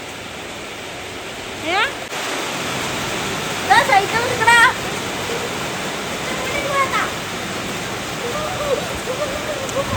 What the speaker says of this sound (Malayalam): ഓ ഗൈസ് അടിപൊളി മഴ.